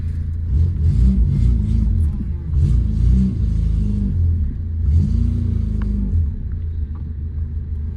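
Peugeot 205 with lowered stance setup and freshly replaced driveshafts, engine revving and rumbling as the car pulls away, loud and near, with a voice talking over it.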